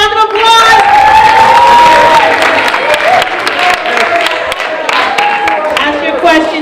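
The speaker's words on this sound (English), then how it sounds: "Let's give her a round of applause" Loud crowd at a youth empowerment forum applauding and cheering, dense steady clapping with whoops and shouts throughout, alone without speech.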